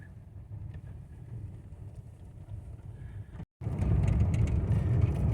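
A car rolls down a rural dirt road toward a petrified wood dig site on a ranch, with a steady low engine rumble and road noise. After a brief dropout it comes back louder and rougher, with wind buffeting the microphone.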